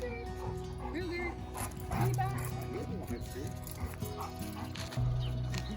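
Dogue de Bordeaux French Mastiffs bark in a few deep, heavy woofs spread across the clip, mixed with whimpers and yips, while people talk over them most of the time.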